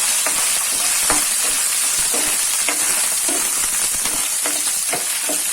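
Garlic and shallots sautéing in oil, a loud, constant hiss of frying with repeated spatula scrapes and knocks at an uneven pace, close up.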